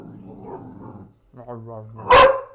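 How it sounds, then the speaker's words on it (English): A puppy named Grumbles lets out a short, loud bark or yip near the end, following quieter stretches of a person talking affectionately to it nearby. "Who's my puppy? You are. You're my puppy."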